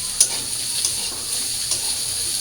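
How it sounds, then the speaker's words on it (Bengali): Potatoes, vegetable stems and sweet pumpkin frying in a pan give a steady close sizzle with a few soft scraping stirs, no voices. "আর এই পাশে যে শুটকির জন্য ডাটা আলু আর মিষ্টি কুমড় ভাইজা নিচ্ছি।"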